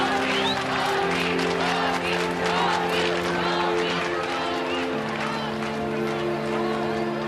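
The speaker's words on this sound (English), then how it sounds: "Crowds cheer his name as the world becomes infused with Gorby mania" A large crowd cheers Mikhail Gorbachev, a dense, continuous roar of voices and clapping that stays loud throughout, with some pitched tones running beneath it.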